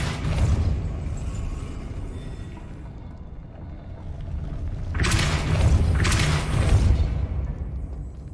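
Depulso repelling spell in the game Hogwarts Legacy unleashes a deep rumbling thud, followed a few seconds later by a brighter whooshing blast over low booming, all close and fairly loud.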